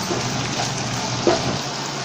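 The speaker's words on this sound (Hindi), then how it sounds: "हल्का सा इसमें पानी जाएगा।" Water is poured into a pan of egg and potato bhujia seasoned with red chilli, coriander, turmeric and garam masala, giving a steady soft splashing gush with a small burst near the end.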